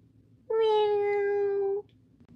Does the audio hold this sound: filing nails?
no